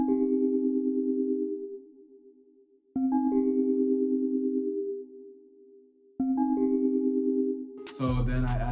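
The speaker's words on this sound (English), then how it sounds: "I went into Omnisphere and I picked the Celeste Retro Plug Spin from Keyscape" Arpeggiated chords from the Celeste Retro Plug Spin patch of Keyscape in Omnisphere, three bright rolled chords each ringing out and fading, followed by a heavy beat entering at the end.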